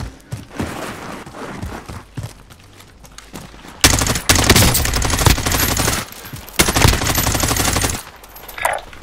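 Heavy automatic gunfire from the video game Warzone rattles in sustained, loud bursts, densest from the middle onward, with brief pauses between volleys.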